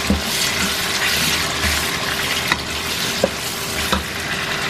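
Garlic sautéing in a pan for a threadfin fish curry, a steady close sizzle with faint stirring scrapes and a few sharp clicks of utensil against the pan, no voices.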